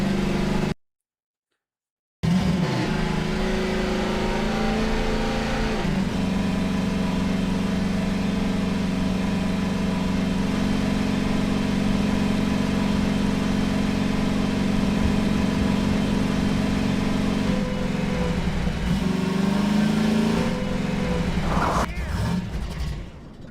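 A car engine in the video game Half-Life 2 hums steadily at mid pitch for a long stretch, rising and shifting near the end, with voices over it at times.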